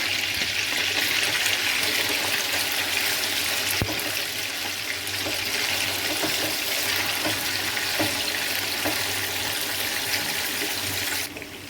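Chicken sizzles steadily in a pan with black pepper added, a constant hissing crackle that runs the whole time with scattered pops and no talking.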